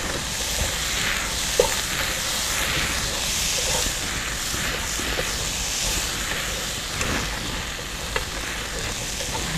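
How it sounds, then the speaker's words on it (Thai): Herbal fried rice with oyster sauce sizzles and hisses steadily in a hot pan as it is stir-fried, with scraping stirs throughout and no talking. "อันนี้เราก็เริ่มผัดคลุกเคล้าให้เข้ากันเลย"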